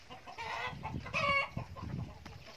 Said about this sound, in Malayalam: ഇത് ഒരുപാട് കോഴികളുണ്ട്, ഒരുപാട് കോഴികൾ.